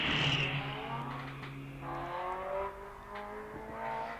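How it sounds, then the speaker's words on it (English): A Ginetta G4 race car with a Ford Zetec engine spins its wheels on the start line of the Wiscombe Park hillclimb, its engine revving hard and rising in pitch as it struggles for traction, fairly close. "Quite a lot of wheel spin."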